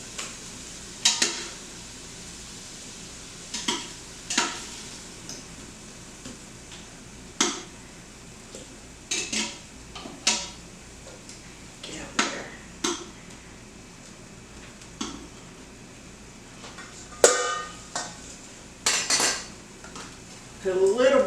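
Browned beef being scooped out of an Instant Pot into a bowl, with a run of sharp metal utensil scrapes and clinks against the pot and bowl, spaced irregularly over a quiet kitchen background with no talking.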